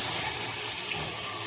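A Cobbe nine-function high pressure handheld shower head runs a steady, close, hissing spray of water that stays constant throughout with no talk.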